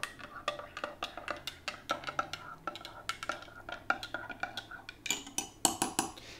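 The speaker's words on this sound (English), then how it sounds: "Stir that up a little bit." Spoon clinking and scraping inside a cup while hot water and vodka are stirred, a quick steady run of close, bright metallic taps repeating throughout.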